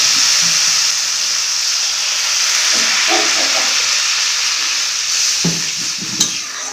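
Water poured into hot, sizzling tomato and spice masala for a jackfruit curry sets off a loud, continuous hiss and crackle of frying, with a few soft clinks of a utensil against the pan.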